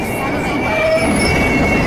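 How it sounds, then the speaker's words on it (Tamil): A train rumbles past in the video game Hitman Absolution, a steady loud roar of rail noise with a thin metallic wheel squeal running through it for the whole stretch. "ஓகே, ட்ரெயின் வரட்டும்."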